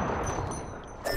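Burst of rapid gunfire in the battle royale game Apex Legends, a dense crackle of shots close and loud over the whole short moment, ending on a sharper blast.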